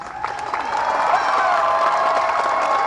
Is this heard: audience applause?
yes